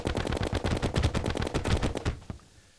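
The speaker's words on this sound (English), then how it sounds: "If I switch to my Mega Shark, I'm going to do a little bit better yet." Mega Shark gun in Terraria fires a rapid, steady stream of loud close shots for about two seconds, then stops with one last shot fading into quiet.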